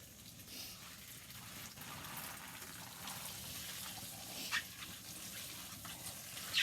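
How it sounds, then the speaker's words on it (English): Water pouring steadily onto garden soil fertilized and prepared for spinach seeds, a continuous close gushing hiss with no talking. "I want to water it really good before I put"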